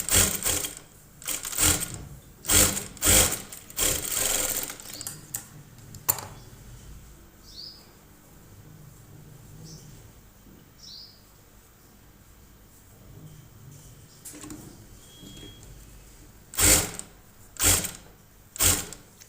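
A sewing machine stitches along a blouse neckline in several quick loud bursts with pauses between, then a long quieter stretch before two more bursts near the end; faint bird chirps surface during the lull.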